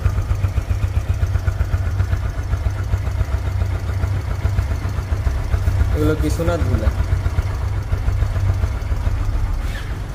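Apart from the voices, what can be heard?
Hero Ignitor 125 motorcycle engine idling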